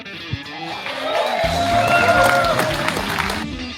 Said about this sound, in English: can you make sure his kids can hear the crowd applause from him walking up?